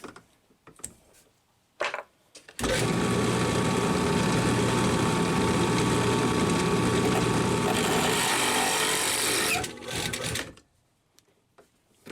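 A power drill with a dull bit bores into metal while working on a 1994 Saab 9000, a steady loud grinding whir running for about seven seconds, with brief short bursts before it and a tapering whine after.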